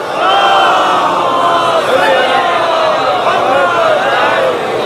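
A large crowd loudly chanting salawat in unison, a dense sustained roar of many voices close and strong throughout, no other sounds standing out.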